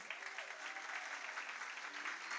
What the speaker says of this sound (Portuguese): uma salva de palmas para cá, serva.